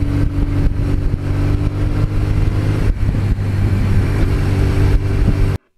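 A 1982 Suzuki GS1100E motorcycle ridden on a road, its steady engine drone loud and close with slight shifts in pitch as it rolls along, ending abruptly.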